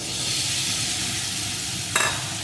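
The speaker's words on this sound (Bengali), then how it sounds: "এখন আলুর টুকরোগুলো এই মশলার সাথে আর একটু কষিয়ে নেব" Fried potato pieces sizzle steadily while being stir-fried in spice paste, a constant hissing fry with a single sharp scrape of the spoon near the end.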